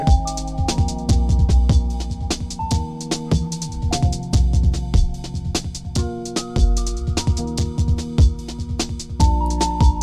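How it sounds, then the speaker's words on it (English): Electronic music with busy, bouncing percussion and a light keyboard melody playing steadily on top. Nothing else is heard. "there's all these little beats bouncing around, light little keyboard"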